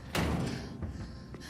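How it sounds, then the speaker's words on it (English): A door being shut indoors: one solid thud-like slam near the start, followed by a couple of fainter knocks and some room noise, with no voices. "I'll close the door."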